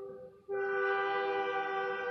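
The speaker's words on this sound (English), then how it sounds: "that's the train, y'all." A loud, sustained train horn blares close by, starting abruptly and holding steady over a low rumble.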